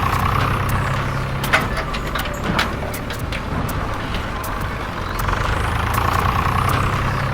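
A John Deere tractor engine runs steadily with a loud, unbroken low drone and rumble, dotted with faint clicks and rattles, and no talking over it.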